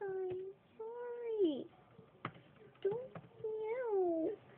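A house cat meows several times in a row, close and fairly clear, with drawn-out wavering cries separated by short pauses and a few soft clicks between them.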